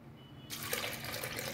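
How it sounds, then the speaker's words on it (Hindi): Water poured into a cooking pot for sour raw mango dal, starting abruptly after a brief quiet moment and then running as a steady, soft splashing stream close by. "पानी डाल दें"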